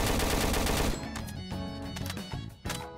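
Dense, loud automatic weapon fire from a Roblox shooting game, a rapid stream of shots that thins into scattered bursts over a few seconds.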